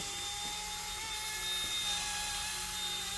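A Carrera Profi RC Red Bull BO 105 C radio-controlled model helicopter flies nearby, its small motor and rotor giving a steady, high-pitched whine that stays even throughout, with no talking.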